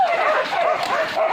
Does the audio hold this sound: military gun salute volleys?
no